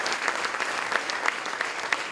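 A full hall applauds in a standing ovation at a town sports awards event, steady crowd clapping with a few sharper individual claps standing out, heard somewhat at a distance.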